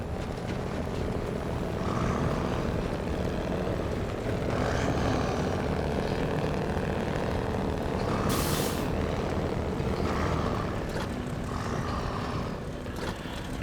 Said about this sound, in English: If there's one thing they got right about this truck, is the engine sound